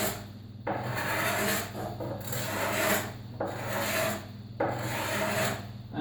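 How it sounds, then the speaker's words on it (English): A steel cabinet scraper worked along the limb of a wooden longbow during tillering, giving close, rasping strokes in long rhythmic passes separated by brief pauses, with no talk. "If my scraping steel is sharp, it works a little bit different than if it gets a little bit more blunt."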